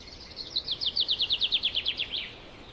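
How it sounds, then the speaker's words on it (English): On a sunny morning, a single bird gives a rapid trill of about fourteen sharp, evenly spaced chirps. It is clear and fairly close against a quiet background. "Can you hear the birds? Tweet,"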